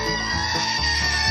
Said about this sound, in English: Oh, it's the goat. Screaming goat, yeah.